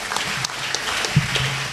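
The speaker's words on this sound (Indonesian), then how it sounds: "Tepuk tangan untuk beliau" Audience applause fills a short stretch at an Islamic boarding school welcome event for a retired army lieutenant general, a steady wash of clapping with no voices over it.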